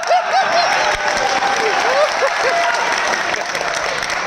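An audience at a billionaires' conference applauds, a loud, dense, continuous clapping with a few voices and light laughter mixed in at the start.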